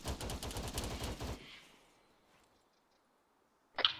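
In ARMA III, a PK machine gun fires one sustained rapid burst of about a second and a half. Quiet follows, then a single short click near the end.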